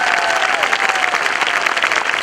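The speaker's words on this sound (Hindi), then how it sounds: "इस सिस्टम के लिए और ऐसे फंक्शन के लिए मैं ताली बजवाना चाहता हूं" Loud, sustained audience applause fills a motivational talk: dense, steady clapping from a large crowd, continuous throughout with no pauses.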